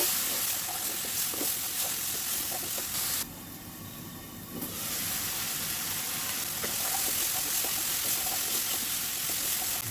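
Lentils are sautéed in fried spice paste in a pan for a mixed vegetable curry, producing a constant loud hissing sizzle that briefly dips quieter for about a second before resuming at full strength.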